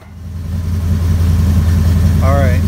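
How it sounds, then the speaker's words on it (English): Chevrolet Monte Carlo SS engine idling with exhaust cutouts fitted, a loud steady low rumble rising in volume and holding, with brief voice-like sound near the end. "now I've got the engine running"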